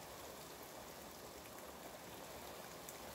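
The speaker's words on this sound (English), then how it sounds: "But the rain's picking up, so." Steady rain falls outside an open window, a dense, even hiss with soft patter from raindrops, continuous and fairly close.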